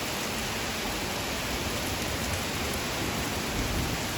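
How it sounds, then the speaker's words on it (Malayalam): Heavy rain pours down in a steady, dense hiss that fills the whole clip, loud and close with no pauses. "ഭയങ്കര സൂപ്പർ മഴയാണ്"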